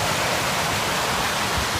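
A river rushes steadily at a crossing in the Carpathian mountains, a close, dense, even roar of flowing water with no pauses and no voices.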